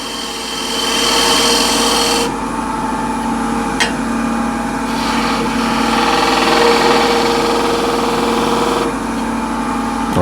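Spindle gouge cutting a wooden bowl on a running lathe, a steady loud motor hum with a continuous hissing scrape of the tool against the wood, plus a brief sharp tick partway through.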